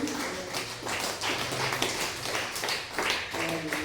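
Brief burst of audience clapping at a church stand-up comedy sermon, a dense patter of many hands in a hall, steady for a few seconds with no talk over it.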